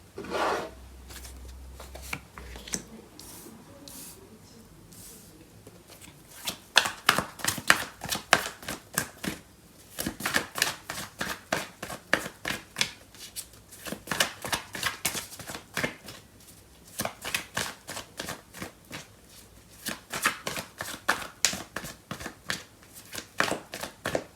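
A deck of tarot cards is shuffled close by in long runs of rapid riffling and papery flicks, broken by short pauses, with faint talk underneath at the start.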